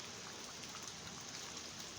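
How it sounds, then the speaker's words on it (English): Steady rain falling after a heavy thunderstorm, a constant even hiss of drops on surfaces, moderately quiet with no voices over it. "It just slowed down on the rain right now."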